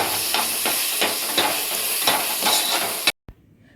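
Fish curry masala with coriander, pepper and chili powders sizzles and hisses in a hot pan, stirred in rhythmic scrapes, close and loud, before stopping abruptly followed by a single faint clink.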